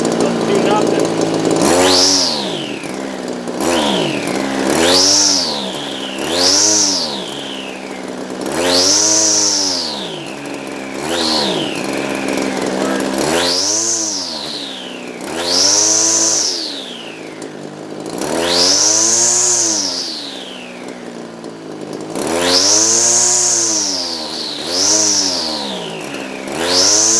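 A two-stroke weed eater engine with a Zama carburetor surges again and again, roughly ten loud rising-and-falling revs in close succession, running unevenly rather than holding a steady speed.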